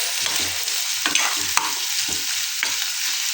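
Noodles stir-fried in a hot pan with green chillies and coriander give a steady, close sizzle, punctuated by sharp scrapes and clacks of a spatula against the metal every second or so. No one speaks.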